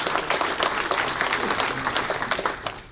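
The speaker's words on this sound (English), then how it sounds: "Give these people a round of applause," Applause from a conference audience for the speakers standing up, a dense wash of many hands clapping at steady loudness throughout, fading slightly at the end.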